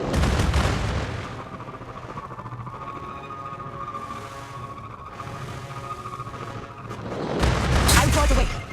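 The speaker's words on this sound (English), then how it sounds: "A Goliath tank. Watch out for its cannon." Goliath tank cannon fire in the video game Destiny Rising, booming blasts at the start and again near the end, with a sustained rumbling, droning battle bed between them.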